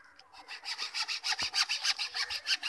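Hand saw blade cutting through bamboo, a quick rhythmic back-and-forth rasp with about a dozen even strokes, close and clear with no talk.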